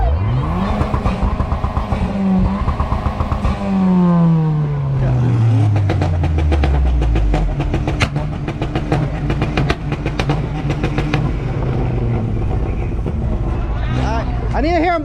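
Audi car engine revving hard on two-step launch control at a street car meet, with repeated rapid pops and crackles, rising and falling rev sweeps, loud and close, and voices of a crowd talking around it.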